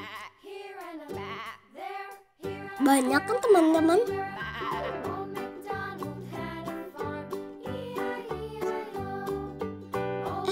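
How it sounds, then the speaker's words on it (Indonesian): Goats for Qurban sacrifice bleat repeatedly nearby, wavering cries overlapping one another, while a person speaks briefly over the herd. "Di sebelah sini ada lagi kambing-kambingnya."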